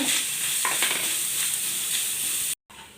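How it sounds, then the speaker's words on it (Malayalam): Cashews and raisins frying in hot ghee, a bright, dense, steady sizzle up close with light stirring, cut off by a brief dropout near the end. "ഇതിലേക്ക് കുറച്ച് കാഷ്നട്ടും കിസ്മിസും ചേർത്ത് കൊടുക്കാം"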